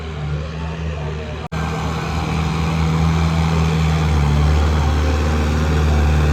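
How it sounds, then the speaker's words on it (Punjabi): A tractor engine, an Arjun 605 shown at the village fair in Karkaur, hums and drones steadily and loudly throughout, with a brief dropout early on and no clear break in the running. "ਬਾਕੀ ਟਰੈਕਟਰ ਆ ਰਿਹਾ ਜੀ ਅਰਜਨ 605"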